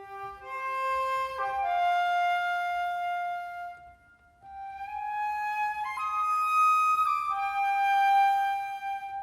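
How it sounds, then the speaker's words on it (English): A flute plays a clear, sustained melodic line of held notes with gliding pitch changes, a brief dip in the middle, alone with no talk. "The flute sounds like this"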